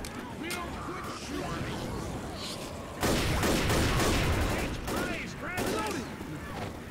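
Bursts of automatic gunfire rattle in Left 4 Dead, near and loud, intensifying partway through, as players talk over the shooting.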